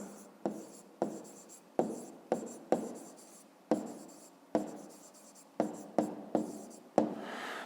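Pen writing an answer by hand on paper in a math exercise, a series of about a dozen short scratchy strokes in an uneven rhythm, close and alone.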